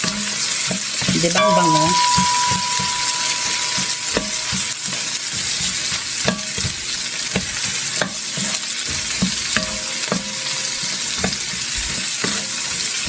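Onion sizzles steadily in a hot pan while being stirred, with scraping stir strokes and clinks over the constant frying hiss; a voice speaks briefly near the start.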